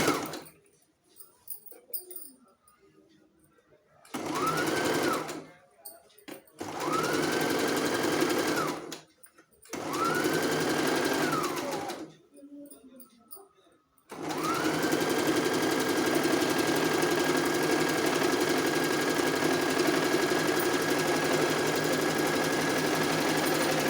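A sewing machine stitches a baby frock in short runs, whirring in three brief bursts separated by pauses and then running steadily for a long continuous stretch, loud and close.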